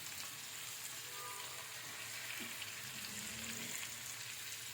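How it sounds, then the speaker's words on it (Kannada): Paneer cubes fry lightly in a hot pan, giving a steady, continuous sizzle with faint crackling that runs throughout with no talking. "ಕ್ಯೂಬ್ಸಾಗಿ ಕಟ್ ಮಾಡ್ಕೊಂಡಿರೋ ಪನ್ನೀರನ್ನ ಆ್ಯಡ್ ಮಾಡ್ಕೋತಾ ಇದ್ದೀನಿ. ಸ್ವಲ್ಪ ಲೈಟಾಗಿ ಫ್ರೈ ಆದರೆ ಸಾಕು"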